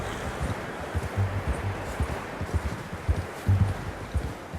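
Horse hooves clip-clop at a steady walking pace in the Western video game Red Dead Redemption, the dull thuds fairly close over a soft bed of rustling ambience, with no talk.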